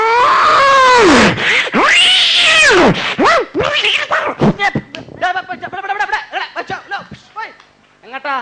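A stage performer imitates a tomcat's nighttime yowling call, with long drawn-out wailing meows followed by a run of shorter choppy cat-like cries that fade, loud and close with no other talk.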